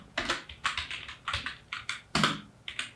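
Typing on a computer keyboard while writing Dart code. Quick, close keystroke clicks come in short bursts with brief pauses between them, and no one speaks.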